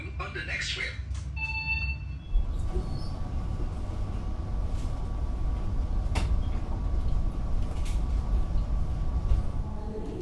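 The KA Dharmawangsa economy train from Jakarta arrives at Surabaya Pasar Turi with a steady low rumble of wheels and carriages, opening with a brief chime before settling into a continuous rolling drone.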